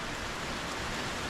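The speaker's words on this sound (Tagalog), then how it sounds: "bumuhos na naman po yung ulan" Heavy rain pours steadily during a stormy spell in Kampanalig, a dense, even broadband hiss with no breaks, fairly loud and close, with no voices over it.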